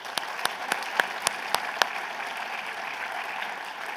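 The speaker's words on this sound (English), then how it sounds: "Everybody give them a hand of applause." Applause from an audience at a startup demo day pitch event, starting with a few distinct, sharp claps and then swelling into steady, moderately loud clapping that holds to the end.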